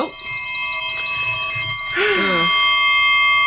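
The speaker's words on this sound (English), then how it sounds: "I don't know when this bell's gonna play, but it needs to play." A podcast bell sound effect rings with sustained high metallic tones throughout, and a voice briefly cuts in over it midway.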